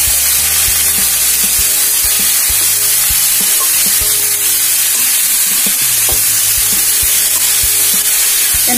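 Potato, banana flower and jackfruit seeds stir-frying in a pan make a loud, continuous, close sizzle, with regular spatula knocks and scrapes and a steady low hum beneath.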